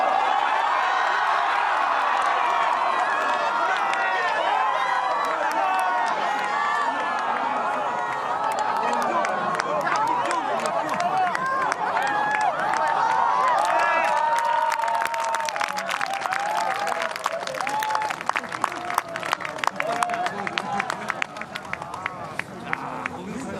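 Golf spectators at the 2018 Hanwha LIFEPLUS International Crown final round cheer and then burst into growing applause, the crowd noise swelling and the clapping becoming dense and sharp toward the end, with a commentator talking over it.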